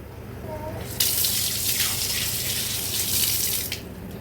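Hands are washed under a running kitchen tap, the water gushing loudly for about three seconds before cutting back to a quiet background.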